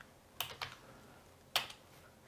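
A command typed on a computer keyboard: a few quick, close key clicks in two short bursts separated by a pause, with a quiet room behind them.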